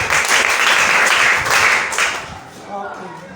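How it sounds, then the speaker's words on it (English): Applause for a jigsaw puzzle competition winner at a Ghana history festival in Nungua, a short burst of brisk clapping from a group that fades out after a few seconds, with voices audible underneath. "Let's give him a round of applause."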